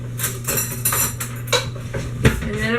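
Cutlery clatters as someone rummages for a knife in a home kitchen, a rapid run of close metallic clinks and scrapes with one sharper knock near the end, no voices.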